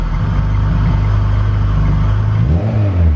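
A loud turbocharged engine in a Honda Integra GSR sedan on a dyno rumbles close by, then its pitch shifts as it revs up near the end. No distinct pops or crackles stand out.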